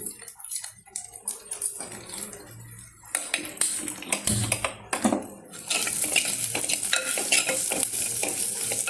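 Drumstick leaves sautéing in a pan for a tamarind curry, with steady sizzling, the scrape and clink of a stirring spoon against the pan, and the frying growing louder and denser toward the end.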